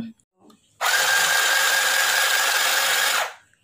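A mini sewing machine runs without its foot pedal, switched on by the middle button: a steady, even motor whir with a rapid needle clatter, starting abruptly and lasting about two and a half seconds before stopping, close and loud.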